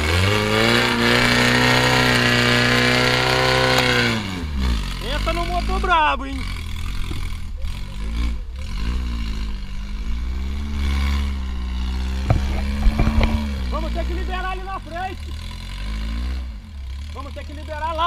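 A 250cc off-road cross kart engine idles and revs in bursts, loud and close, with pitch rising and falling; people talk over it.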